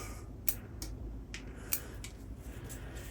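Scissors snip old growth from an Itoigawa juniper bonsai, making several short, crisp clicks at uneven intervals over a quiet background.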